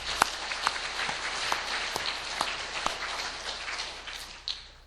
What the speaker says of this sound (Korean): 우리 박수로 감사하며 격려하겠습니다.